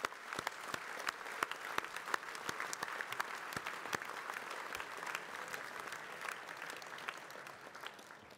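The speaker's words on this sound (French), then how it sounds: "On peut vous applaudir" An audience applauds at a 2020 New Year's greetings ceremony in Saint-Germain-en-Laye, sustained even clapping with a few sharp, distinct claps standing out near the front.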